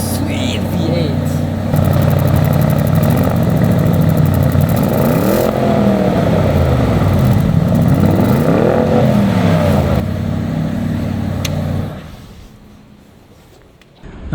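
A Porsche Cayenne Coupe Turbo's 4-litre twin-turbo V8 exhaust in sports mode runs loud and steady, with revs swelling and falling in smooth sweeps before dropping away near the end.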